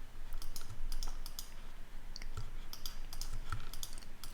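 Computer keyboard keys and mouse buttons clicking during photo editing, crisp close clicks in irregular clusters and single taps throughout, with no talking.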